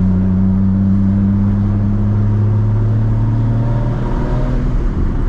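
A big-turbo, straight-piped MKIV Toyota Supra cruising produces a loud, steady low exhaust drone with a faint engine whir, heard continuously from inside the car.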